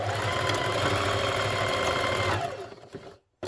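A sewing machine stitches a jetted pocket on a garment, running in a steady close whirring drone for over two seconds before slowing and stopping, with no talking.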